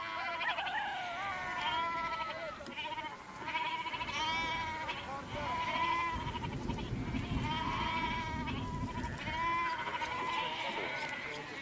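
Goat bleating at a rural settlement in Iran's mountain valleys, repeated wavering bleats through most of the stretch over a steady background, with voices murmuring around them.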